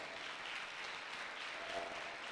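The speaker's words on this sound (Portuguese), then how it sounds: "Aplauda ao Senhor nessa tarde" A church congregation applauds during a Portuguese-language sermon, a faint, steady wash of clapping from a distance, fairly even throughout the short stretch, with no talking over it.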